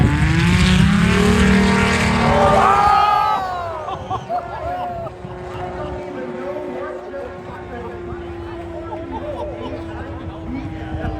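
A STOL aircraft takes off during the short takeoff and landing competition at EAA AirVenture Oshkosh, its loud propeller engine roaring up close at first, then settling into a steadier drone as crowd noise and talk carry on underneath.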